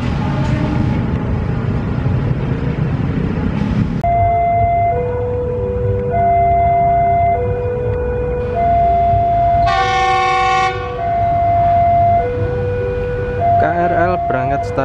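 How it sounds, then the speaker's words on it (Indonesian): A KRL commuter train departs Tugu station in Yogyakarta as a rumbling pass mingles with a repeating multi-tone chime or horn melody, loud and close throughout. "KRL berangkat stasiun Tugu Jogja."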